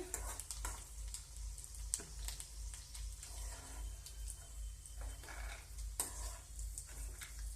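Cashews fry in a pan for festival yellow rice, giving a steady close sizzle with occasional stirring clicks and scrapes throughout.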